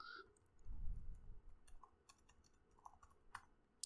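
Soft, sparse clicks of keys on a computer keyboard, a few scattered taps close by in a quiet room with a low rumble early on.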